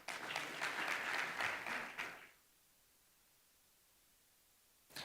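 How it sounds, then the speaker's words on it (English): A warm round of audience applause at a Kenyan diplomatic dialogue event, dense and steady for about two seconds before cutting off abruptly into near silence, with a faint clap at the very end. "Please give her a warm round of applause"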